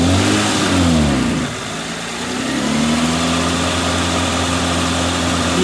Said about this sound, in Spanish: Písale un poquito de gas.